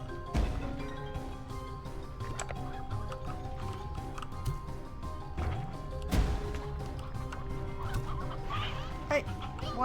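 Chickens cluck repeatedly in the Slime Rancher 2 video game, a busy cluster of short clucks and squawks with occasional thumps over steady background game music.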